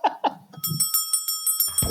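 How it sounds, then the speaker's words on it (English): A bell ringing in a rapid, even series of bright metallic dings, close and fairly loud, with a couple of short vocal sounds just before it and a thump at the end. "ring the bell"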